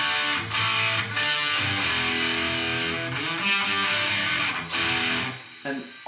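An electric guitar, plugged straight into an audio interface and run through the Helix Native amp simulator, plays distorted chords and riffs in short phrases with brief pauses between them, alone and fairly loud.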